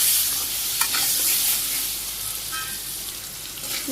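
Potatoes with salt and turmeric fry in hot oil, giving a bright, steady sizzle, broken by scraping stirring strokes close by.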